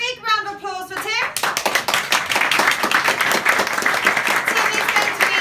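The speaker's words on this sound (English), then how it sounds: "I want to have a big round of applause for Tim" Audience applause for Tim at a business club gathering, starting after a brief spoken line and swelling into a sustained round of clapping from a room of people, close and fairly loud.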